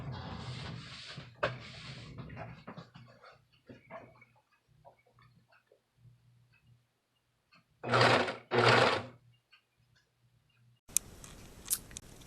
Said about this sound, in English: Now all my seams I will serge